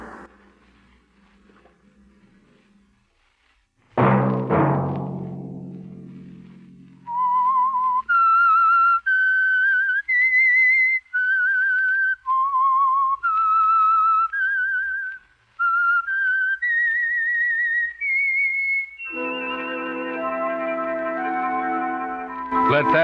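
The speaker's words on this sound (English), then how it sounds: "Let that whistle be your signal for the Whistler" A lone whistled theme melody rises and falls in a string of clear sustained notes, opening the Whistler radio mystery show after a sharp orchestral chord, then fading into a soft orchestral swell.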